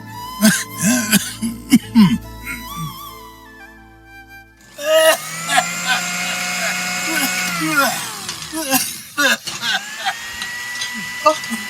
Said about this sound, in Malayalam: എന്തൊരു ചുമ ഇത്